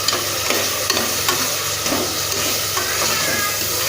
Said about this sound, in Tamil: இப்போ நம்ம தக்காளி கட் பண்ணி வச்சுக்கிறத சேர்த்திக்கலாம்.